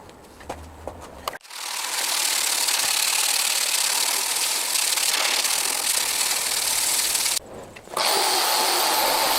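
Loud, steady rotary wire brush grinding against the metal underside of an old scrapyard lawn mower deck, running continuously for several seconds with a brief pause before starting again, after a short quiet moment at the start.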